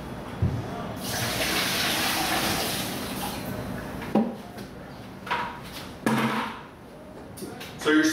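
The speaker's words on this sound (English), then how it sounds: "so now we have to add 1 gallon of water" A gallon of water pours into a descaler concentrate mixture for cleaning a tankless water heater, a steady rushing splash for several seconds, then a few clunks and bumps of a container being handled.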